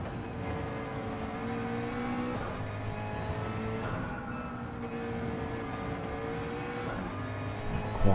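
A GT race car engine on a track at Lago Maggiore drones loudly and steadily under acceleration, its harmonic whine rising and shifting through gear changes for the whole stretch, with no speech.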